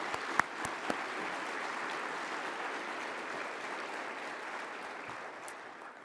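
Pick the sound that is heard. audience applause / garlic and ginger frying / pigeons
audience applause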